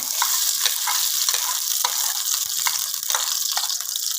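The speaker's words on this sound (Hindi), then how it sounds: "घी को हम हल्का सा गर्म करेंगे, ताकि इतना करेंगे जस्ट ये पिघल जाए" A cup of ghee warming in a kadhai on the stove for makhandi halwa, a steady, fairly loud hiss with regular small pops and ticks throughout.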